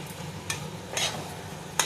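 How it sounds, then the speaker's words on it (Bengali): A spoon stirs spinach and radish greens seasoned with cumin powder in a pan, producing a few brief scraping clacks over a low, soft sizzle, with no talking. "এবারে একটু জিরের গুঁড়ো দিয়ে দিলাম, দিয়ে আমি এটাকে নাড়বো"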